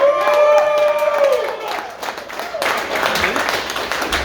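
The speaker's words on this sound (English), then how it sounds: "now clap for Cam Honeyacre, everybody" Comedy club crowd clapping and cheering as the next comic is introduced, loud applause with shouts building after a host's voice, filling the room for several seconds.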